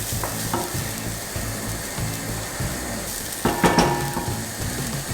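Spices sizzling in a hot pan for a Mexican beef casserole, a constant frying crackle with scraping stirs of a utensil and a louder burst of stirring partway through.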